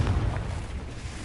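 A Confringo blast spell in Hogwarts Legacy lands as a heavy, booming explosion with a deep rumbling tail that fades over about a second.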